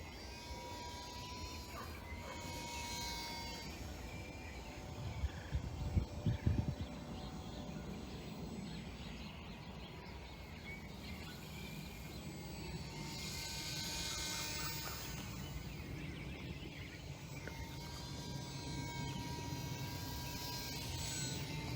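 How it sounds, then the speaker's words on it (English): The out-of-balance propeller of a micro RC plane spins continuously with a steady buzzing drone and rattling vibration for the whole stretch, close and fairly loud, with a few louder knocks partway through. "Boy, is that propeller out of balance."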